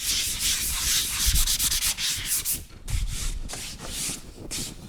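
Hand sanding of a sealed MDF craft piece, with steady rhythmic rubbing strokes of sandpaper, close and moderately loud, with no talking.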